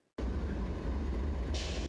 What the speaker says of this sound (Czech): Vlak opouští nádraží.